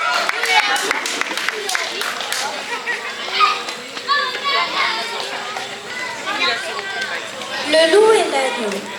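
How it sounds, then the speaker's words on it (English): Children at a kids' open mic in a media library clap and chatter together, a busy burst of small hands clapping mixed with excited young voices, swelling and fading over several seconds. "On applaudit très fort pour Léa."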